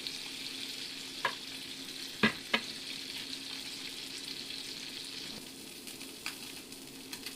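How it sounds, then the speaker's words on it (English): Fish fillet frying in a pan with garlic powder gives a steady broad sizzle throughout, with a few sharp pops and spatters along the way and no talking. "Just let this fry up for a little bit."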